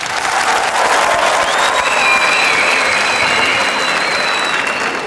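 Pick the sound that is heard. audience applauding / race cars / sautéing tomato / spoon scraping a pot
audience applauding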